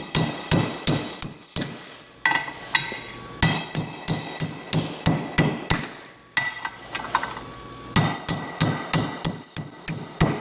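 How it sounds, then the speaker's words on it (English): Repeated metal hammer blows on a motorcycle crankcase, from the cam side of an XLCH chopper engine, come in sharp, loud, evenly spaced bursts with two brief pauses, each strike ringing with a metallic clank. "And I need a metal hammer."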